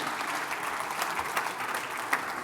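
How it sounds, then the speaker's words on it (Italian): An audience applauds at a conference talk, steady sustained clapping from a crowd for a couple of seconds. "Facciamo un applauso"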